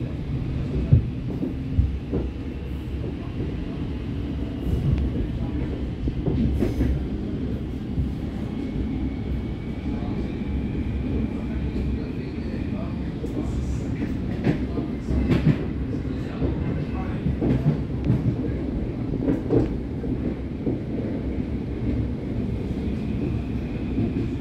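Refurbished Siemens Nexas suburban train running between Windsor and Prahran, heard from inside the carriage as a steady loud rumble with rhythmic wheel clacks over the rails, continuous throughout.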